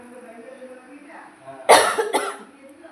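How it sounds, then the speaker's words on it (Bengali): A person coughs twice in quick succession, one hard burst followed by a weaker one, after roasting pungent dry chilli in a kitchen. The coughs are close and loud above quiet room noise, with brief murmured speech nearby. "শুকনো লঙ্কাটা খুব ঝাঁজ, কাশি বেরিয়ে যায়"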